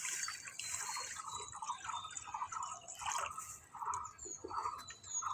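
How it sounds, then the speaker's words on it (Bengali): Water is poured onto fried mung dal in a kitchen, a soft, steady trickling and dripping splash that stays faint and continuous with no voices. "ডাল ভেজে নামিয়ে নিয়েছি, এবার আমি জল দিয়ে দেবো।"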